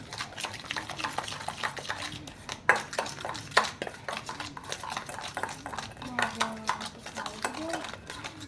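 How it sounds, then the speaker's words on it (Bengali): Batter for soybean pakora being stirred and mixed in a bowl with a utensil, giving repeated scraping and clinking strokes at a steady rhythm, close and moderately loud, with brief sharper knocks against the bowl. "ভালো করে এই ব্যাটারটা তৈরি করে নিতে হবে।"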